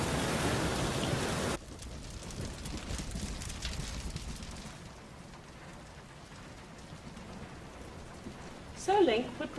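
Steady rain falls in The Legend of Zelda, loud and hissing at first, then softer behind an indoor scene with voices and a brief tonal chime near the end.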